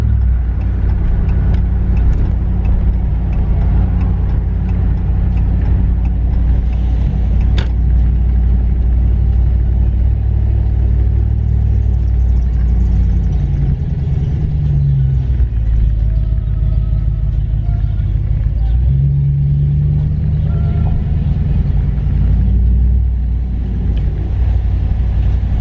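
A Hemi 5.7-litre car cruises with a loud exhaust. A deep, continuous rumble sits close and heavy throughout, with the engine note swelling at moments. No one speaks.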